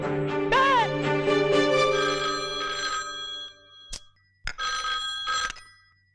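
A telephone bell rings loudly in repeated bursts, followed by a pause and a few shorter rings, with no voices over it.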